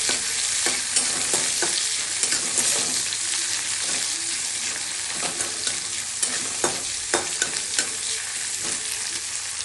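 Onions frying in a pan give a dense, steady sizzle, broken by repeated scraping knocks of stirring, close and loud with no talk.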